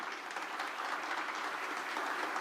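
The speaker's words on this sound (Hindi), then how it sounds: "अरे जोरदार तालियां बजाओ उनके यहां भी।" Audience applause at a Jain monk's sermon gathering in Kapilapuri, a steady wash of many hands clapping throughout, fairly distant and even, with no voices standing out.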